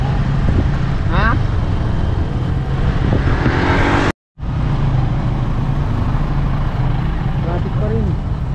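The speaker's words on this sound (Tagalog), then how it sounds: "Traffic pa rin." Road traffic in Barangay San Nicolas, a continuous loud rumble of car and truck engines idling and moving nearby, with a short cut midway and occasional faint voices underneath.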